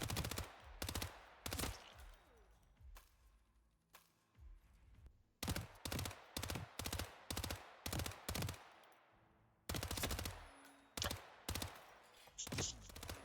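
Rapid bursts of gunfire in a shooter video game on the Miami map, loud and close, in repeated clusters of shots with brief gaps between volleys.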